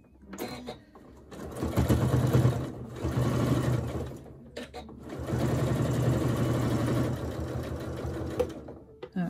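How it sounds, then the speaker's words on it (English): A domestic sewing machine basts the side seams of a crossbody bag, running in several long bursts of rapid stitching separated by short pauses, with a person talking intermittently over it. "now I'm going to be sewing it down, basting it in to the side seams in the inside and not between the layers"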